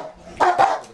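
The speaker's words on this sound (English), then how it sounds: "With the police dog barking" Two quick, loud barks from a police dog, close by, with a short gap between them and little else around.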